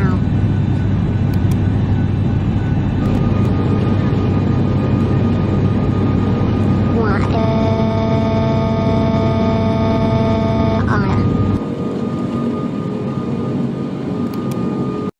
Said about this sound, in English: I heard like a loud airplane flying over my house